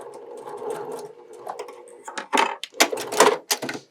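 A sewing machine stitches irregular patchwork curves in quick stop-start bursts of rapid needle clatter, getting sharper and louder toward the end, close and alone.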